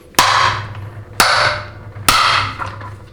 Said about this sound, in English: So the manual impact driver makes quick work of stuff like this